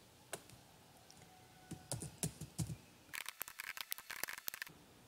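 Computer keyboard keys pressed in a Kannada MCQ typing demo, Enter, Backspace and Ctrl+V among them, scattered single taps at first, then a rapid run of clicks, close and quiet, no voices.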